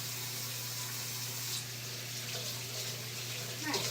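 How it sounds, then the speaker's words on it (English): Running water from a kitchen sink tap rinsing out a bowl, a steady close hiss of flow that keeps going for several seconds, with a faint clink near the end. "And I'll just rinse out my bowl so it'll be easier to wash later."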